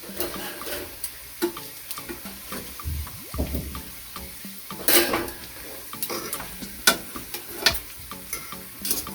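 Jamaican salt fish fritters fry in oil on a stovetop, giving a soft sizzle broken by scattered clinks and scrapes of a utensil against the pan, close and fairly quiet, with no talking.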